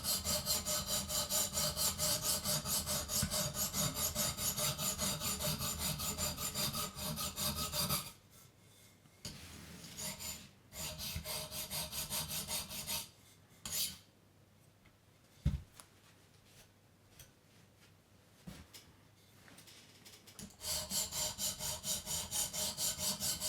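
A Spyderco Delica knife blade is ground on a TS Prof guided sharpener, with steady back-and-forth rasping strokes in long rhythmic bursts, broken by pauses with a few light scrapes and clicks before the stroking resumes.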